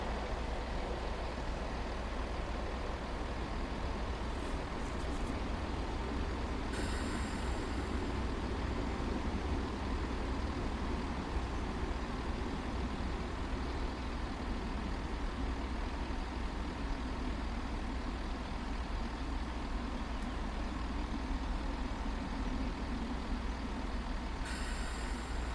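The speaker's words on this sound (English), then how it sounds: "Alright, let's get this train slowed right down" A train in Train Sim World, Great Western Express route, braking as it slows toward a stop: a steady low engine rumble and rolling noise persists throughout at moderate level, with brief higher hissing bursts near the start and end.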